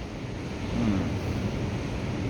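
Surf at Newcastle Beach rolls in as a continuous broadband wash, with a slight swell in the middle, steady and moderately loud, mixed with some wind rumble.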